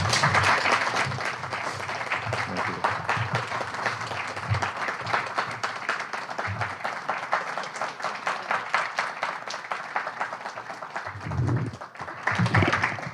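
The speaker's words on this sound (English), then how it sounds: "Can we give another round of applause to Roberto Tejada" A live audience applauds after a poetry reading by Roberto Tejada, sustained dense clapping from a crowd that carries on for over ten seconds, dipping briefly near the end before swelling again.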